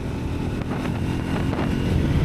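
A Triumph Scrambler 400X motorcycle engine drones loudly while riding, under heavy wind roar against the microphone, rising slightly toward the end as it accelerates.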